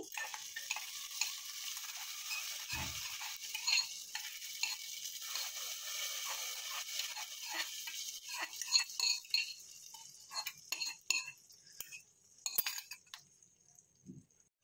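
Venn pongal being stirred in a pot, a soft bubbling hiss with scraping and clinking of a spoon against the pot that grows busier and more intermittent toward the end, close with no speech.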